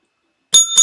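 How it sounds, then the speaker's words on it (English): A small handheld bell is struck twice in quick succession to celebrate a win, giving two bright, ringing dings with no talk over them. "Here, that deserves a bell."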